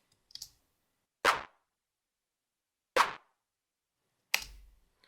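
Three sharp synthesized claps ring out alone at spaced intervals, each a brief bright snap with a short decay, preceded by a faint click.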